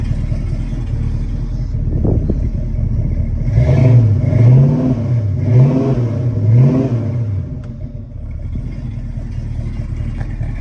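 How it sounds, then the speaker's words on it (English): A 1970 Ford Mustang Mach 1 with a 428 Cobra Jet V8 idles with a deep lumpy burble, then gets three or four quick blips of the throttle that swell into rising and falling exhaust roars before settling back to idle. "Let's give it a couple little revs so you can hear the exhaust."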